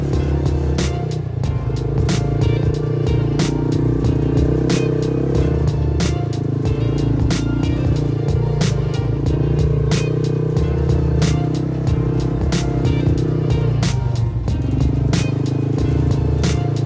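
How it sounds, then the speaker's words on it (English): A Yamaha Rhino side-by-side and dirt motorcycles ride together across desert terrain at Ocotillo Wells, a steady droning engine hum carrying throughout with rattles and bumps from the rough ground, close and continuous with no talking. "We're just out doing a little family-friendly ride here with Mrs. Tom's Tinkering and Adventures and the Yamaha Rhino, and Mark and Mark Jr."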